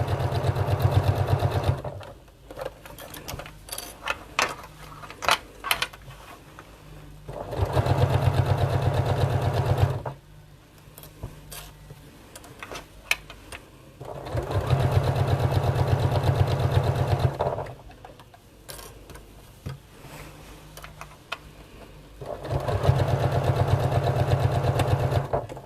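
A sewing machine stitching bag handles runs in four loud, steady bursts with short quiet pauses between them, and no talking is heard.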